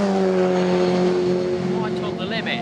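Historic 1972-era Formula Ford race cars at Croft circuit, a loud steady engine drone held near with a slight pitch shift as the cars pass, with a commentator talking over it.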